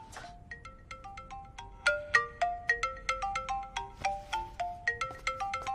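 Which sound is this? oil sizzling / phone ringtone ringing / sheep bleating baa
phone ringtone ringing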